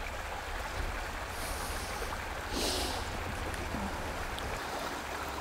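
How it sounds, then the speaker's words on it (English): A small creek, a salmon-habitat tributary running down a ravine below a house, flows with a steady broadband rush and gurgle at close range, with no voices. "This little creek here, this tributary just comes from the ravine just below our house"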